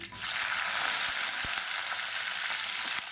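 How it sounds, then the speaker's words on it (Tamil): Green chillies, mustard seeds, urad dal and fennel sizzle in hot oil for onion kurma, a steady loud crackling frying hiss with a few small pops and stirring knocks, no talking. "இப்போ இது கூடவே பச்சை மிளகாயை 2ஆக கீறிட்டு சேர்த்துக்கலாம்."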